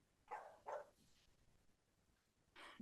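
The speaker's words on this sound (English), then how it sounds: "Dogs barking." Two quick dog barks close together, a softer third, then another bark after a pause, fairly faint and distant-sounding indoors, with no talk over them.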